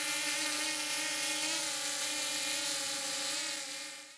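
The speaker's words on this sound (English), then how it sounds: "Let's get the drone on up." A drone lifts off and hovers outdoors before a fireworks launch, its steady high-pitched rotor whine droning evenly for several seconds with layered tonal harmonics, close and loud, then fading slightly at the end.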